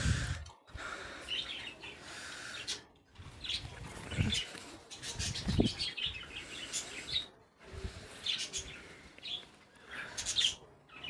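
A hand-fed pet conure parrot gives bursts of chirps and short squawks between quiet gaps, faint and fairly close, with rustling and soft movement noises around it.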